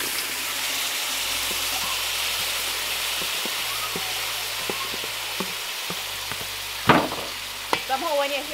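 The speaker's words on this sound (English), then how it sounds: "Somehow when you hear that sizzle," Crab curry in coconut sauce sizzles and fries steadily in a pot, a close, continuous crackle with a few light knocks and stirring scrapes toward the end.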